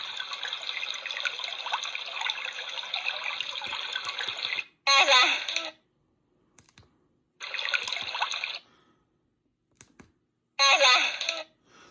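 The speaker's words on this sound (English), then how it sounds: "Somebody washing their hands." Recorded test sound of someone washing their hands: running tap water splashing steadily for several seconds, then stopping and restarting in short bursts separated by silences, with faint handling clicks in between.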